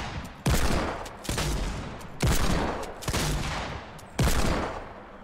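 A heavy shotgun and a Desert Eagle are fired in turn in Fortnite, making about five loud, close booming shots spaced roughly a second apart, each fading into a short decay.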